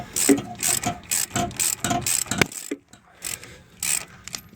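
A ratchet wrench loosens a 21 mm nut on the CV axle of a 2008-2013 Nissan Rogue, giving a run of quick, close clicking bursts, a short pause, then a few more ratcheting strokes.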